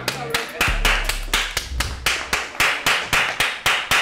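People clap in a steady rhythmic beat of about a dozen sharp, loud claps, with voices talking and a low rumble underneath early on.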